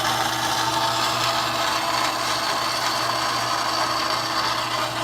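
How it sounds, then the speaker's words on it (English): Band saw cutting aluminium in a workshop, a steady, loud, continuous grinding whine with a constant motor hum underneath, unbroken from start to finish. "Cutting this aluminium."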